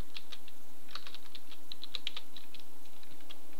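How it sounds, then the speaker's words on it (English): Keys clatter on a computer keyboard as a bash command is typed. Quick, light clicks come in uneven runs, fairly close, with a low steady hum underneath. "So now you type in bash spigot"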